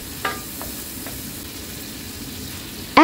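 Garlic, onions and tomatoes sauté in a pan, a low steady sizzle with a few light spoon taps near the start and a sudden louder scrape or clatter at the very end; no talking.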